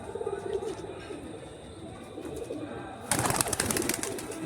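Pigeons in a loft at dusk give soft cooing over a rustling background, then a sudden louder burst of fluttering and shuffling about three seconds in that carries on to the end.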